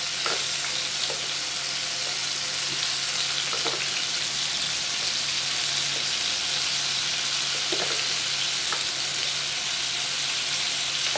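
Lemon butter garlic shrimp sizzle and fry steadily in a pan, a loud continuous crackle close up with occasional faint stirring clicks and no talking.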